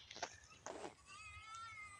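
Goats on a farm bleat faintly in the distance, two short wavering calls at the start followed by a thin, sustained tonal bleat, all quiet and alone.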